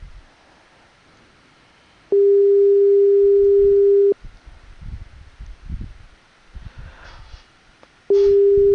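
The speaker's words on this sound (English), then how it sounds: "let me try ringing the person back." A steady low telephone tone sounds for about two seconds, pauses with faint rustling and background noise, then returns again.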